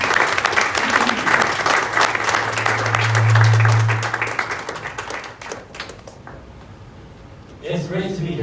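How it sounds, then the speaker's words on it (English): Audience applause greets a CEO invited onstage, a dense sustained clapping that swells, then fades toward the end before a voice begins speaking. "So a round of applause for Patrick."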